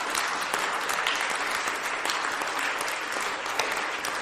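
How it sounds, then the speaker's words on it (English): A studio audience gives a sustained round of applause for production staff, dense steady clapping filling the room at even loudness throughout. "give a big round of applause for the staff that helped produce the last 100 shows"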